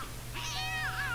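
A cat in The Sims 2 gives one drawn-out meow that rises and wavers, close and clear over a steady low background hum.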